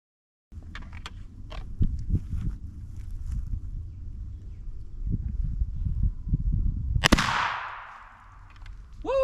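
Single black powder shot from a Kentucky muzzleloading rifle, one sharp loud crack with a ringing tail, preceded by quiet outdoor handling and shuffling noises.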